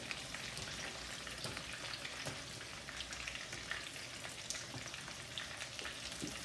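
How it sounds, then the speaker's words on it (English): Steady, dense crackling and sizzling of chicken in its second round of deep-frying in hot oil for General Tso chicken, continuous and close, with no voices. "Over here we have the second frying round of the chicken."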